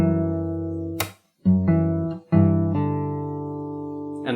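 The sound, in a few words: guitar playing last bit of a song slowly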